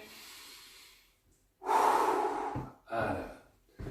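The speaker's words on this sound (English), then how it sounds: "You do a big breath in." Deep breaths during a seated exercise session for older adults: a quiet exhale, a pause, then a long loud intake of air followed by a shorter second breath, heard close with no talking.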